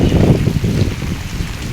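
Heavy storm rain falling with a dense, continuous close rush of water, loud and steady throughout, with no voices.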